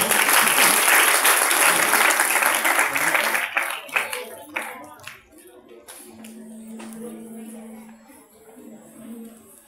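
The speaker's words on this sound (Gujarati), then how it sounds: "બધા તાળીઓથી વધાવી" Audience at a school farewell bursts into dense applause that fades into scattered claps, shuffling and a low hum, with a voice speaking faintly as it dies down.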